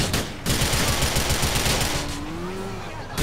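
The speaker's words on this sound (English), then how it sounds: "You shoot, I shoot back." Gunfire in Grand Theft Auto IV, a loud sustained burst of rapid automatic shots over dense game noise, ending abruptly, no speech.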